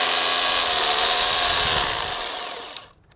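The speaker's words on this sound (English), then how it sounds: "you can drill in one, but you're best off drawing it back lightly and clearing the grooves of the dust." A power drill bores into concrete or brick to fasten timber, a loud, steady, grinding whine held for over two seconds before it winds down and stops.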